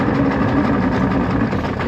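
A 1998 Evinrude 225hp outboard engine running steadily at a low, throaty idle, loud and close, with no talk over it.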